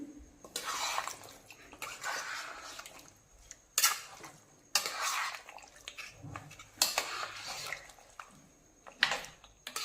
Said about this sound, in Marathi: आता हे व्यवस्थित मिक्स करून घ्यायचं